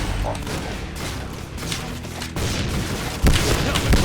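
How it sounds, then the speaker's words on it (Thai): Steady, dense gunfire and booming shots from the Point Blank video game continue throughout, with a few sharper, louder blasts toward the end. "ยิงกันแรงเหลือเกิน เซิร์ฟนี่เขายิงกันแรงมากเลยนะ"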